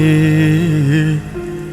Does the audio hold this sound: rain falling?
yes